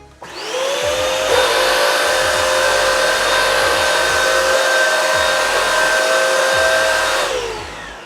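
A Bissell Crosswave Pet Pro vacuum mop motor whirs up and runs at a steady, loud, high-pitched whine, with faint bumps underneath as it moves across a hardwood floor, then winds down.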